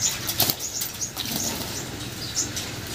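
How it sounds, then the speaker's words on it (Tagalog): Pigeons bathing flap their wings in quick bursts of fluttering and splashing, close by, with short pauses between flurries. "bali 2 beses nga tayo nagpapaligo ng mga kalapatid natin"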